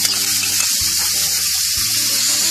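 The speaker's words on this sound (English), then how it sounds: "Now let your vegetables cook for about 2 minutes. Make sure to stir it continuously" Cabbage, capsicum, cauliflower and spring onion sizzle loudly in a hot pan, a constant hiss with a few scraping stirs as a spatula moves the vegetables.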